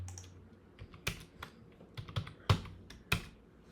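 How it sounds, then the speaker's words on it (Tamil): Close keys clack on a computer keyboard in an irregular run of separate taps, with a few sharper, louder strokes and no speech. "இப்போ இதுக்குள்ளே வந்து எட்ஸ்ன்னு உள்ளதை டைப் பண்ணுறேன்னு வச்சுக்கோங்களா"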